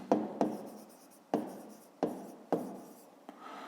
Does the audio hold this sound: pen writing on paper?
yes